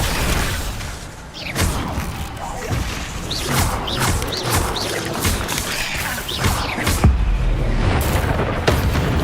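Incendio fire spells blast repeatedly during combat in the Hogwarts Legacy video game, a rapid series of booming, crashing bursts and whooshes over a busy background, with voices mixed in.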